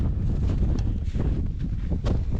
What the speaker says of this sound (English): this one's facing directly into the wind